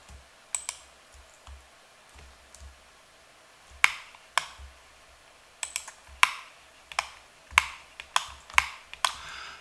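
Sharp, irregular keyboard key presses and mouse clicks at a computer while modeling in Blender, sparse at first and then coming in quicker bursts, close and fairly quiet with no talking.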